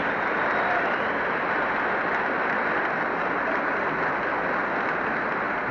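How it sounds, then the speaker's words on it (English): A Congress chamber gives General Eisenhower a sustained ovation. Dense, even clapping from a large crowd carries on without a break in a thin, old broadcast-quality recording. "I'll let you hear some more of this applause."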